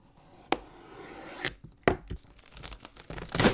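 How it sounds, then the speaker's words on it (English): Plastic wrap on a Tamiya 1/72 Focke-Wulf Fw 190 A-3 model kit box is sliced with a knife and peeled away, giving a sharp tear, then sporadic crinkling rips and crackles building to a busier burst at the end, close up with no talking. "peeling off the plastic wrapping from this box"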